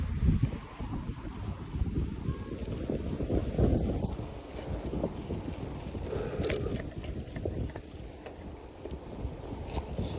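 Strong wind buffets the microphone in heavy, rumbling gusts throughout a bike ride, roaring close and loud with a few faint clicks in the background.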